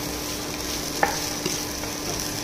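Okra fry with garam masala is stirred in a pan over a low flame, giving a soft steady sizzle and a couple of brief scrapes of the spoon.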